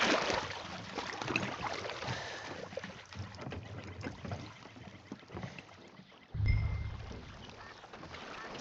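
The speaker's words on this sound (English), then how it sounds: "I'll show you where we're rowing to." Oars splash and knock as a rowboat is paddled across a lake in Red Dead Redemption 2, steady close water sloshing with wind over it and a louder thump of hull and water near the end.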